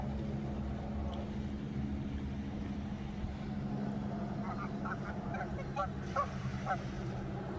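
Geese in a park give short honking calls in a loose cluster toward the end, moderately distant and faint over a steady low engine-like rumble.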